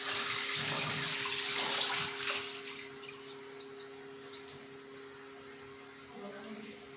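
Water splashes loudly in a basin for about two seconds as cauliflower stalks are washed, then settles into quieter trickles and drips over a low steady hum.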